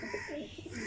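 Pigeons coo in soft, low rolling bursts over a steady background hum, several overlapping calls close by in a loft of golden fancy pigeons.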